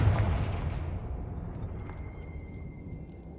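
A Confringo fire spell blast in Hogwarts Legacy, a loud booming burst at the start that rolls off into a long decaying rumble with no other sounds over it.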